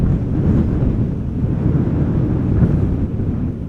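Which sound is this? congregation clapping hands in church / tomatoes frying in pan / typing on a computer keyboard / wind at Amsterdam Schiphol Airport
wind at Amsterdam Schiphol Airport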